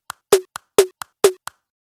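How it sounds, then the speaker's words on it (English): The Sophie snare layered with a clap strikes three times, alternating with quieter short ticks between hits, forming a tight, dry electronic rhythm. "And then it's layered with a clap sound."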